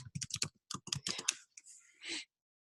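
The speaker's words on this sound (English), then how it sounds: "If we type in kayak logos" Someone typing a short search into Google on a computer keyboard, a quick close run of key clicks, a brief pause, then a few more taps and a final longer keystroke, in quiet surroundings.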